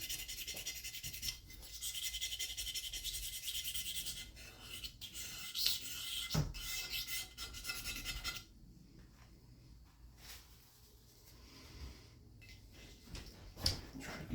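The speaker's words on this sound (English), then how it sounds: "when you get over with this crud, you can feel it on the razor blade, so you know where to concentrate your scraping" A razor blade scrapes crud off the sole and toe of an old Stanley Bailey No. 7 hand plane, giving a steady, close, rasping scrape that eases into quieter, intermittent strokes with a few sharp knocks.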